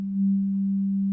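A synthesizer oscillator holds a single pure, steady sine-like tone at one low-mid pitch, sounding alone, sustained and unchanging for the whole moment.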